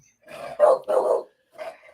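A dog barks indoors, close and loud, in a burst of three quick barks, then a pause and one shorter bark.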